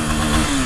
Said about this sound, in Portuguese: Olha essa moto, mano.